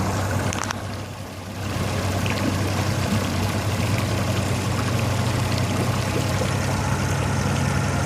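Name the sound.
pontoon boat engine idling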